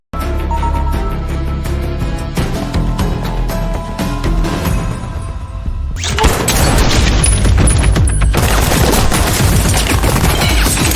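Heavy gunfire from a tense shootout inside a room in the action film Ballerina, loud and continuous bursts layered with booms and crashes over a driving score, growing more intense partway through.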